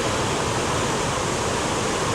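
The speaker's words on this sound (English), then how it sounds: "of the water as it hits below, and when it does, it splashes up a cool mist of water." Heavy water from Cumberland Falls, Kentucky, pounds into the plunge pool with a constant, dense rushing roar, heard from near the falls with no other sounds.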